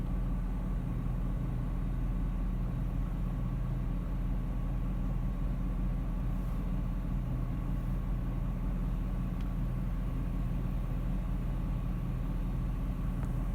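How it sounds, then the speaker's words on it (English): Cars pass back and forth along a street, heard as a steady, low, rumbling traffic drone with engine hum that never lets up. A few faint higher ticks rise above the continuous wash of noise, and no one talks. "with the cars going, driving back and forth"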